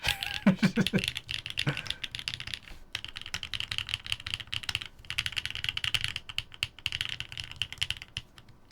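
The G key on a mechanical keyboard is pressed over and over to break it in, making quiet, rapid clicky keystrokes in uneven bursts, close to the microphone with no talking.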